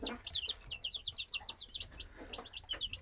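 Chickens cluck and chirp in a busy, overlapping chorus at close range, a steady run of short repeated calls from a flock of young hens being raised on feed and water.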